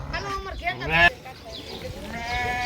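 Sheep and goats bleat on a village farm in Gujarat, several wavering cries close by, with voices talking over and between the calls.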